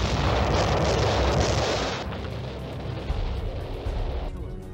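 World War II battle explosions roll as a dense, continuous rumble of blasts and booms, loud and heavy throughout, with the roar easing a little toward the end.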